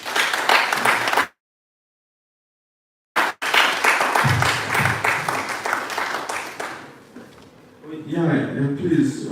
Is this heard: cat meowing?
no